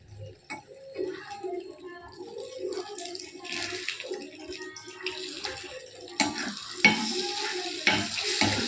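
Beaten masala egg cooking in a nonstick pan, a soft crackle with scraping stir strokes that build toward the end, with a few louder clatters of the utensil.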